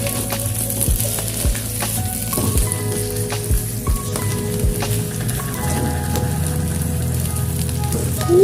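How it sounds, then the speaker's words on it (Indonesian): Fried anchovies stirred into sambal in a pan, steady sizzling and frying crackle with spatula scrapes and clinks against the pan, close and continuous, without speech. "Lanjut masukkan teri yang sudah digoreng. Aduk sampai"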